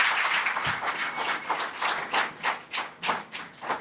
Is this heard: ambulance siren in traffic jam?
no